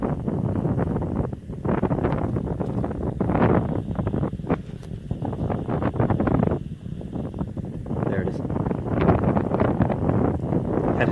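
SpaceX Falcon Heavy launching ARABSAT-6A on its 27 Merlin engines, a distant crackling, ripping roar that swells and fades in rough bursts for the whole stretch, with no talking.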